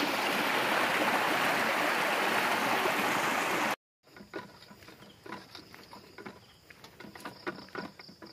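A loud, steady rush of flowing river water fills the first half, then cuts to quieter outdoor sounds by the sea with scattered rustling, in San Narciso, Quezon Province.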